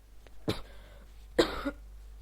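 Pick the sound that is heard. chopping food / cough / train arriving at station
cough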